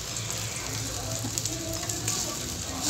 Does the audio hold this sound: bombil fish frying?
yes